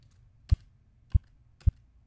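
Three short, dull synthesized bass drum blips with very fast fades, evenly spaced about half a second apart, each low thump alone against near silence.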